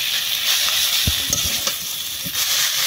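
Taro greens cooked with a hilsa fish head sizzle and fry in a pan while being stirred, with a loud steady hiss and occasional scraping stir knocks, close and alone.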